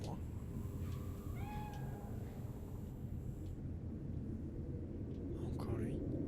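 A cat in the video game Cyberpunk 2077 gives a few short meows early on, fairly faint over a low rumbling game ambience.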